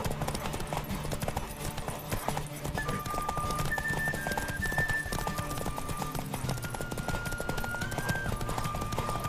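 Steady galloping hooves pound in a fast, even rhythm in the video game The Witcher 3: Wild Hunt, with a brief whinny and a sustained musical backdrop running alongside.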